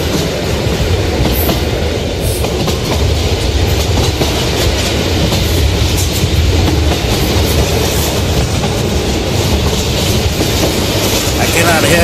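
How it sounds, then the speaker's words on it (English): Inside the Roblox game Escape Nightmare Huggy Wuggy, a train moves along its tracks with a loud, steady rumble and rhythmic clickety-clack that fills the whole stretch without pause. "The train is moving. Please take a seat."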